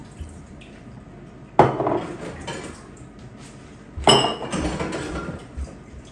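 Dishes clatter as they are arranged in a dishwasher after a family lunch, with two sharp clanks and lighter rattles of plates and cutlery between quieter stretches.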